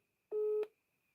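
A single short steady phone tone from a call that goes unanswered, clean and mid-loud against silence, ending with a faint click.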